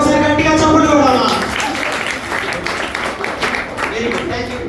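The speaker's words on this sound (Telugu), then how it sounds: "యేసయ్యకి ఒకసారి గట్టిగా చప్పట్లు కొడదామా?" At a children's gathering with a magic show, the audience claps loudly in a dense burst that settles into steadier applause, while a voice talks over it at the start.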